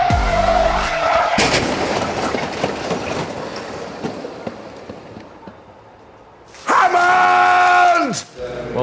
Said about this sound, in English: daughter of Richard Hammond from Top Gear, has had a big shunt in the duels. 25 Gs into a concrete barrier.